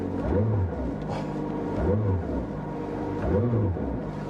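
A McLaren 600LT Spider revs in three quick throttle blips, each a rising and falling roar over a low idle burble, heard from close by.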